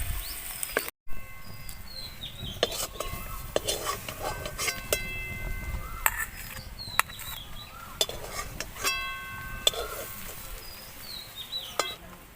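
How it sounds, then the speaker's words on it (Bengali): A spoon stirs ridge gourd peel paste in a pan until it dries out, with scraping and light metal clinks against the pan and a faint sizzle. Birds chirp softly in the background. "একটু শুকনো শুকনো হবে, ততক্ষণ অবধি নাড়াচাড়া করতে হবে"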